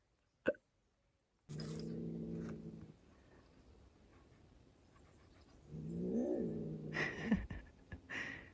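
A cat outdoors at a rural stone house renovation in Portugal lets out drawn-out, wavering yowls and growls at a dog, two close bursts separated by quiet, after a single sharp knock.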